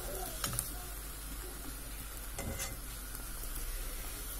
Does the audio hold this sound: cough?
no